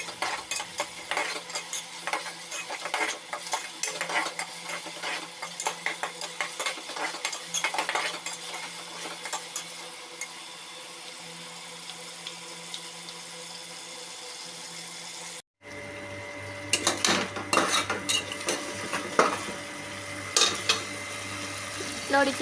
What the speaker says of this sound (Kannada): ನಂತರ ಟೊಮೊಟೊ ಹಾಕ್ಕೊಳ್ಳಿ ಫ್ರೆಂಡ್ಸ್. ಟೊಮೊಟೊ ಫುಲ್ ಫ್ರೈ ಆಗಬೇಕು ಫ್ರೆಂಡ್ಸ್.